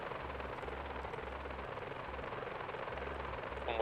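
Helicopter flying in GTA 5, a steady low rotor thrum with pulsing beats over a broad engine wash, fairly faint and continuous, with a brief louder burst at the end.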